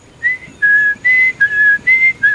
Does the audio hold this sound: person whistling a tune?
yes